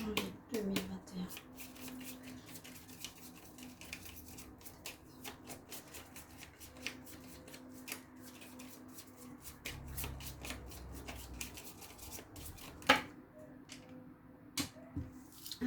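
Tarot de Marseille cards are shuffled by hand in a quiet room, a long run of rapid, soft riffling snaps and flutters with a few sharper clacks near the end, close and faint.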